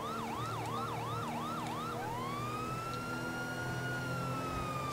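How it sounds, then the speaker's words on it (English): A police siren in Grand Theft Auto V wails in a rapid yelp, then shifts to a long rising and falling tone, loud and steady over engine noise. "that's how to change the siren tone"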